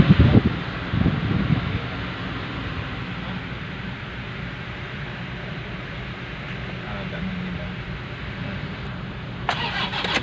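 A car engine cranks and catches near the start, then settles into a steady, rough idle with a brief rustle at the end.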